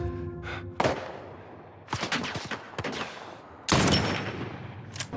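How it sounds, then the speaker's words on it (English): Gunfire in the video game The Last of Us during a fight with a sniper's nest: a run of sharp, close shots and heavy impacts at irregular intervals, with one especially loud blast late on. "Joel shoots the people chasing after the rest of the group in a sniper's nest."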